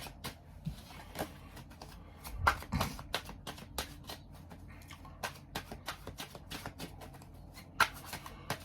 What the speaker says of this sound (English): Give it a nice quick shuffle.